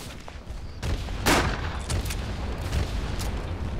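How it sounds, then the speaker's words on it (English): A grenade explosion in the World War I shooter Verdun, a loud booming burst followed by rumbling battlefield gunfire and scattered distant blasts. "Let me just toss a grenade and see what happens."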